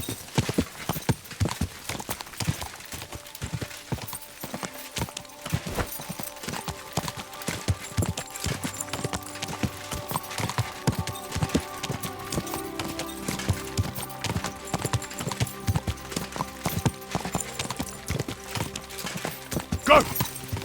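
A horse in Kingdom Come: Deliverance II clip-clops steadily along, hoofbeats close and rhythmic throughout, with a brief snort or whinny near the end.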